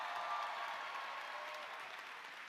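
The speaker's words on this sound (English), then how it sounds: "Give him another round of applause" Sustained audience applause fills a packed venue at a university commencement ceremony, a dense, steady wash of many hands clapping that holds strong throughout and eases only slightly at the end.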